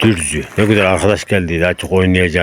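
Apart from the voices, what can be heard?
No everyday noise stands out behind the speech.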